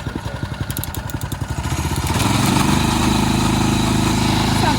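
Small outboard motor on a little boat, just started with the choke now off, puttering in quick even pulses, then rising into a steadier, louder drone close by.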